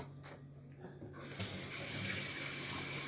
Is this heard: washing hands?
yes